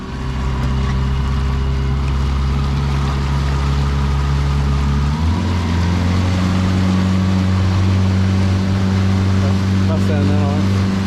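A Predator 165 fishing boat's outboard motor runs steadily on the water with a loud, continuous drone that shifts in pitch about halfway through, while voices talk over it.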